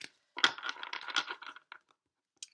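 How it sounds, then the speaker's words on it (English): Tarot cards shuffled by hand, a close, quiet riffle of papery flicking for about a second, then a few soft taps and silence. "let me just give another shuffle or two."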